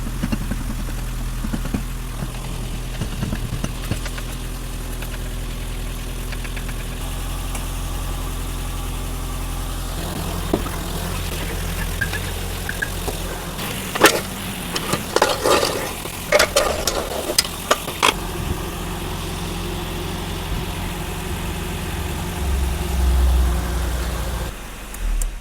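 A BMW E30's engine idles steadily with a low, constant hum throughout, while clattering and knocking of work under the car break in around the middle.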